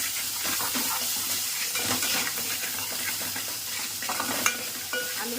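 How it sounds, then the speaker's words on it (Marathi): Ginger garlic paste frying in a pan with tomato for a crab curry, a constant close hissing sizzle with stirring scrapes and a sharp clink near the end. "आलं लसूण पेस्ट छान भाजून घ्यायची आहे."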